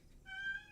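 A pet cat named Bloom lets out a single soft, drawn-out meow, faint and close, over a quiet room background with no talking.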